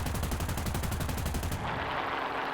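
Rapid sustained burst of 20 mm aircraft cannon fire from six guns on an SM.91 fighter in War Thunder, a dense mechanical hammering that stops abruptly after about a second and a half, leaving engine drone.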